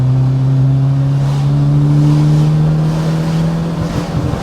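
Rare BMW 2002 Turbo engine pulling hard on throttle, a steady loud drone with rising tone building over several seconds, heard from inside the car with no talking.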